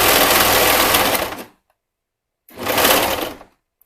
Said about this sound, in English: your sewing machine will naturally help you ease that in